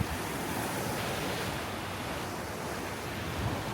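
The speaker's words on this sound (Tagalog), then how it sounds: "Kusog kaya ang tubig." Strong sea waves wash against the shore at a resort in Siquijor, a continuous loud rushing surf with wind noise and no speech.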